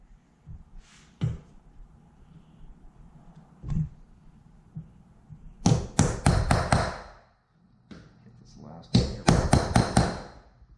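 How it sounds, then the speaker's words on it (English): A metal punch taps around a rivet on an aircraft wing spar, sharp bright strikes coming singly at first and then in quick bursts of five or six, close and loud against a quiet background. "I just use this this punch here to just try and tap around the edge of this rivet"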